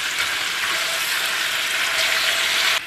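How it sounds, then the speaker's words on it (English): A chuck roast seasoned with salt and pepper sears in a hot pan, giving a loud, continuous close-up sizzle with no talking. "I'm just gonna brown up this chuck roast on all four sides of my pieces here."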